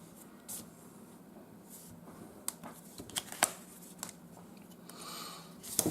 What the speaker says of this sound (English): And I will just cut it out with scissors.